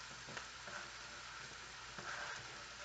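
Mushrooms fry in a pot for Hungarian mushroom soup, a soft, fairly quiet sizzle broken by a few light scraping stirs, with no talking.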